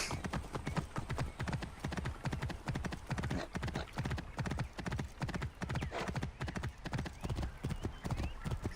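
A horse gallops steadily in Assassin's Creed Origins, a fast continuous rhythmic hoofbeat pounding close and loud throughout, with occasional snorts and faint background voice.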